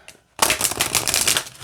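Oracle cards with red foil edges and a slightly glossy, mostly matte finish are shuffled by hand in a quick burst of close, crisp riffling after a brief quiet start.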